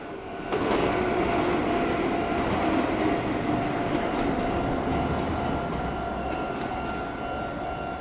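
Train rolling past a railroad crossing near Kariyasuka Station in Japan, a steady loud rumble of rail cars with faint wheel clatter and tonal hum sustained for several seconds, no voices.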